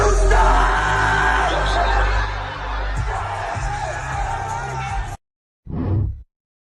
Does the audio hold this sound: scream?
yes